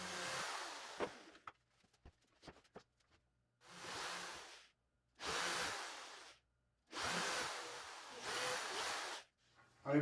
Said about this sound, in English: we're just going to go through and we're going to put our countersink hole